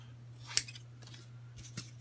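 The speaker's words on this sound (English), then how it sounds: "I'm just going to cut each of these in half" Scissors cutting paper in half for a scrapbook layout, with a sharp close snip followed by lighter snips over a steady low background hum.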